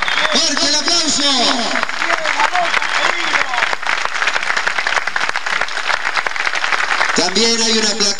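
Loud crowd applause fills an open-air stadium at the 1993 inauguration of Club Atlético Aldosivi's Estadio Adolfo L. López in Mar del Plata, with an announcer speaking over the start and again near the end.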